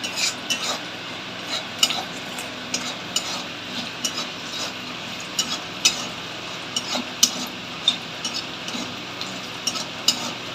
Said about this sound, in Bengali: লাল লাল করে বড়িগুলো ভেজে নেবো